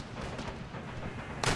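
Cannon fire in Empire: Total War during a fort assault rumbles as a low, continuous distant barrage, fairly faint, with a sharper louder report bursting in near the end.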